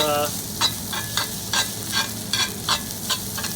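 Fried rice is stirred in a hot cast iron skillet, a dense sizzle under rhythmic scraping strokes of a utensil, roughly eight quick pushes, close and loud.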